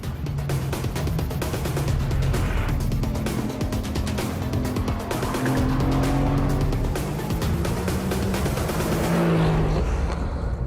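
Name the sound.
car driving fast around a track corner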